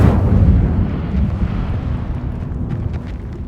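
Incendio fire spell cast in Hogwarts Legacy, a loud roaring whoosh of flame that bursts at the start and rumbles on, slowly fading with scattered crackles toward the end.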